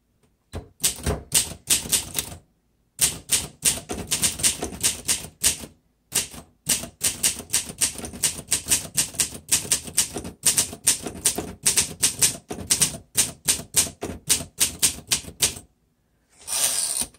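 A 1957 Olympia Deluxe manual typewriter typed on steadily at close range, with fast bursts of crisp key strikes broken by short pauses and a carriage return, no voices.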